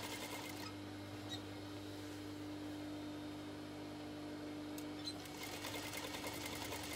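A sewing machine stitches along a fabric edge, running in a continuous steady hum with a faint mechanical whir throughout and a few small clicks, at low volume with no talking.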